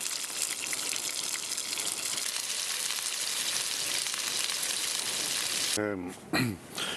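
Sausages sizzle and spit in a pan on a camping stove during a hike near Causey Pike, a steady close frying hiss that runs continuously before a few brief bumps and clatters near the end.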